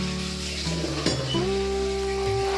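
Ghee sizzling in a pan of sugar syrup while making Mysore pak, a steady close frying hiss with a few faint metallic clinks and a brief knock midway.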